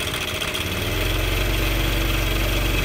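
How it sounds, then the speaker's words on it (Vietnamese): A motorbike engine with a fault that makes it run noisily revs up: a rough mid-range mechanical hum rises within the first second into a louder, steady, throbbing drone that holds close and alone. "Và bây giờ là mình chạy ga lên này."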